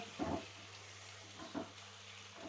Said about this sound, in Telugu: ఇప్పుడు నేను దీంట్లో ఆనపకాయ వేస్తున్నాను